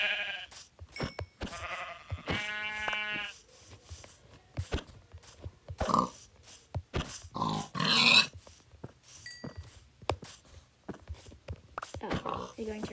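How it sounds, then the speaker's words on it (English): Sheep and pigs on a video game farm, with harmonic bleats near the start and scattered short animal calls and footstep-like taps throughout, heard alongside speech. "Ooh, right off the bat, we already have two sheep and pigs."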